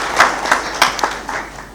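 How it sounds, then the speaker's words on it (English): A few scattered, separate claps from a conference audience at a winter school in Victoria Falls, sparse and moderately close, fading out over under two seconds. "Another round of applause for the Honourable Deputy Minister"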